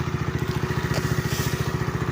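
A motorcycle engine runs steadily at a close distance, its exhaust putting out an even, rapid low thumping pulse with a faint clatter, idling or ticking over at night with no voices.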